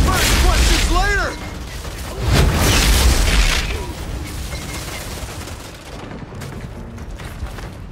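Gunfire and explosive booms in the video game Outriders played on an Xbox Series S, loud dense bursts layered with heavy low rumbles and mechanical clatter, mixed with game music and a voice briefly speaking.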